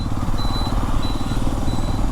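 Engine of an Xpulse 210 motorcycle lugging at low road speed in sixth gear, a steady, continuous low drone with a faint high whine on top, close and fairly loud throughout.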